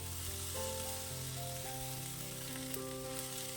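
Thinly sliced onion sautéing in hot oil for a plantain stir-fry, a steady close sizzle that holds throughout, with a soft scrape of stirring; a tonal hum runs underneath.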